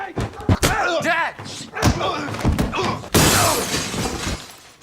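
A loud crash and shattering as a person smashes through a door in a movie scene, mixed with overlapping voices and shouting before and after the impact.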